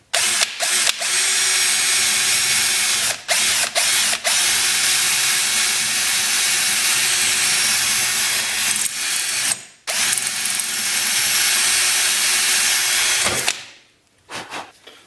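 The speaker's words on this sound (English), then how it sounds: "We'll just start off with a smaller drill bit just to get it started." A loud power drill with a small bit runs continuously on a dirt bike during a speedometer install, with a few brief stops and restarts, then winds down near the end.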